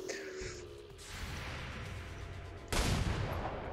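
Overwatch gunfire in the XCOM 2 strategy game, with a low rumbling battle ambience followed by a sharp, loud burst of shots near the end.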